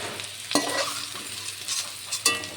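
Red potato frying in hot oil, a steady sizzle broken by a few sharp scraping stirs of a spatula in the pan.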